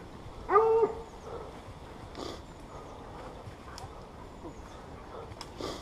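At a wild boar pack-hunting trial in Auxonne, a hunting dog gives one loud, close bay, followed by faint scattered rustles and distant sounds in open ground.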